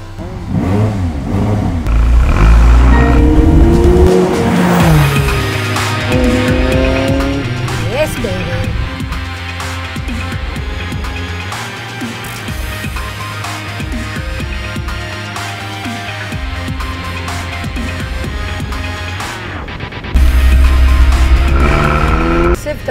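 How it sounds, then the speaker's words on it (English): A McLaren sports car pulls away and accelerates, its engine note rising and falling loudly under continuous music and talking voices. "So Jeannie D is driving a Mclaren."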